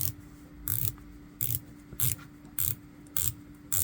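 A rotating bezel on a Hemel Sea Dart 300m diver watch clicks in short ratcheting bursts, about seven crisp close-up turns spaced evenly over a faint background hum.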